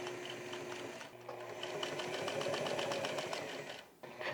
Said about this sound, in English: Sew the whole top of the collar together.